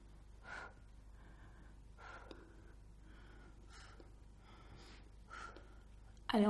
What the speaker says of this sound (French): On souffle en montant et on inspire en descendant.